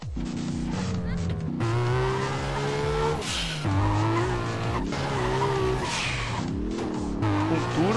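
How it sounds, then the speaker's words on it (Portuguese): Modified car engines and tyre screeches in GTA San Andreas, a continuous loud roar with rising and falling engine pitch and skidding squeals, with music-like tonal layers running throughout. "O som dos veículos também está modificado"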